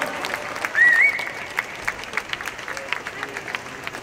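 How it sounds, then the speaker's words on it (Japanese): Applause from an outdoor bon-odori festival crowd welcoming a dance troupe, a diffuse wash of many clapping hands with a brief whistle early on, tapering toward the end. "はい、拍手をお迎えください。"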